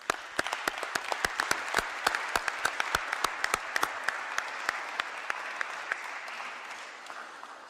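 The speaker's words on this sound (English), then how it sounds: "perhaps we should just give a quick round of applause to say thank you very much for that" An audience at a university event in 2017 gives a round of applause: dense, lively clapping from many hands that holds steady and then gradually thins toward the end.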